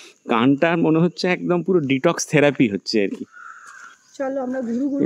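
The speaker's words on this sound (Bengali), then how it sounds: "সকাল থেকে যে কত ধরনের পাখির ডাক শুনছি," A crow caws in the countryside around Ghodahada Dam in Odisha, with a short harsh call heard in a brief pause between stretches of close, steady talking.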